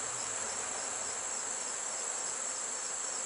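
Honey bees swarm over the frames of an open hive in late season, where nurse bees tend capped brood, giving a steady, dense, close buzzing drone that holds evenly throughout with no voices.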